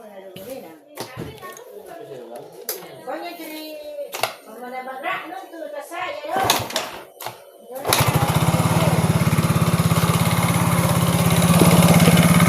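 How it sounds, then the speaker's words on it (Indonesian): A motorcycle with misfiring and ECU ground signal problems starts up and runs steadily, loud and close, after several seconds of people talking with a voice audible. "Jadi sekarang kita tes lagi, kita hidupkan."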